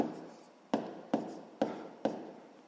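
Pen or chalk writing out a sixth-grade math solution by hand: four sharp, quiet strokes tap and scratch at a steady pace against near silence, with no voices.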